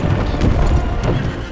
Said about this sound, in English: Discovered this cool horse crash animation.